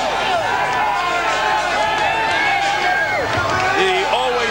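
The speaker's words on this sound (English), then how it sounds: "The always spiritual Evander Holyfield hearing it from the crowd." A dense boxing arena crowd roars and jeers continuously as heavyweight Evander Holyfield walks to the ring for his first fight with John Ruiz, loud and unbroken, with voices calling out through the din.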